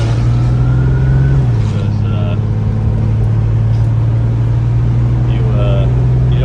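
A 1974 Dodge Duster with no power steering drives along, its engine a loud, steady low drone that holds near and constant throughout, and its pitch dips slightly once early on.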